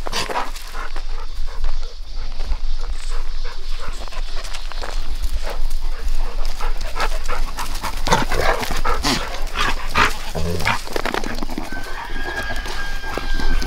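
Dogs play and bark on a goat farm during breeding season, with scuffling, panting and sharp barks up close, loud and busy, while a rooster crows and other farm animals sound nearby.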